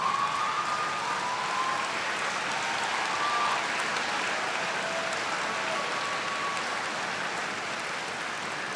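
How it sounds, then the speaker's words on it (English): Graduation ceremony audience at the 2016 FGCU fall commencement applauds continuously, a dense wash of distant clapping from a large crowd in a big hall, steady throughout and with no distinct single claps. "will the graduates please rise and give a round of applause and appreciation of those that supported you through the educational process,"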